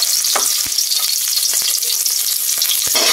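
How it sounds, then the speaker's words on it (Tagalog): Onion and garlic sauté in a heated pan, a continuous close crackling sizzle dotted with occasional soft knocks and taps of stirring. "Ayan, napainit na po natin yung ating kawali. Ilalagay lang po natin yung sibuyas natin at yung bawang."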